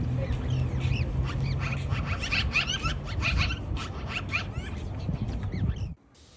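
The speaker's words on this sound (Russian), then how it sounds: "Очень много гусей." Flock of wild Canada geese honking continuously over one another, a busy chorus of calls over a low rumbling background, fairly distant, ending abruptly.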